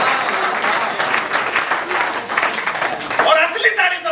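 An audience at a Hindi comic poetry gathering claps in sustained, dense applause that continues throughout, close and lively.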